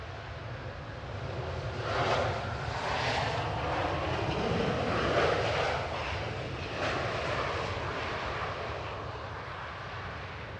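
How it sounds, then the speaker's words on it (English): A six-year-old easyJet Airbus A320neo roars steadily as it crosses the runway threshold on landing at Manchester Airport. The broad, sustained engine noise is moderately loud and fills the whole stretch without speech. "Just coming over the threshold now is GUZHA, a 6-year-old A320neo, operating flight 2084 for EasyJet from Skiathos"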